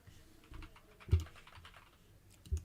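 Typing on a computer keyboard, with scattered soft key clicks and a few heavier thumps from keys being struck, sounds close and fairly quiet in an otherwise hushed room.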